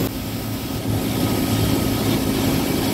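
The fan motor of a walk-in freezer runs after starting up, a continuous loud whirring drone with a steady low hum and no speech.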